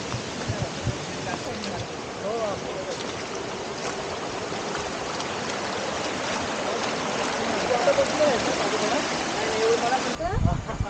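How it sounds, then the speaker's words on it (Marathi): Steady roar of rushing water from a waterfall stream beside the Bhimashankar trek route in the rainy season, a continuous broad wash of flowing water heard up close and fairly loud without pause. "आणि खरंच मस्त मस्त मध्ये वॉटरफॉल लागतात,"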